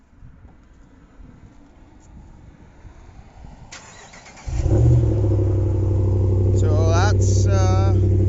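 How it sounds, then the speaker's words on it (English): A Ram pickup truck with a Solo Performance direct-fit muffler is remote-started cold on a 10-degree morning, cranking and catching into a loud, steady deep idle rumble after a quiet stretch with birds cooing nearby and a brief word spoken. "and here's a remote start."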